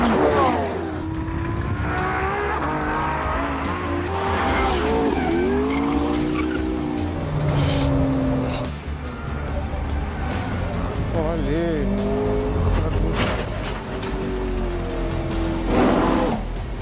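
McLaren, Porsche and Ferrari supercars are driven hard around a track, engines revving and shifting with tyres squealing through corners, loud and close for the whole stretch, with some talk over the top.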